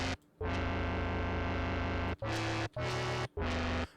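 Harsh, buzzy synth patch from the Reason Studios Algoritm plugin plays a long distorted note, then three short stabs, gritty and dense.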